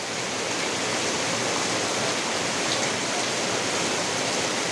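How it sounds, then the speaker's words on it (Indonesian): Heavy rain pours down in a storm, a dense, steady roar of rainfall that fills the whole clip loudly and evenly, with no voices. "Hujannya lebih dahsyat kan?"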